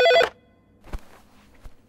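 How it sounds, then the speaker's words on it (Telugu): A telephone rings in a Telugu film scene: one short, loud electronic ring burst at the start, then quiet room sounds with a couple of soft thumps like footsteps. "రింగ్ అవుతుంది."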